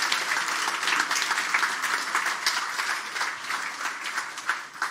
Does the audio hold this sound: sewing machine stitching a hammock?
no